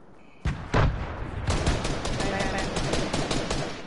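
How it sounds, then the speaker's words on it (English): A Tommy gun fires in a video game, a loud rapid burst of automatic shots that starts with a couple of heavy cracks and then rattles on continuously. "Oh yeah. Tommy gun!"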